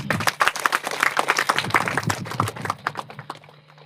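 A crowd at an ashram anniversary celebration breaks into applause, quick irregular claps close by that taper off after a few seconds.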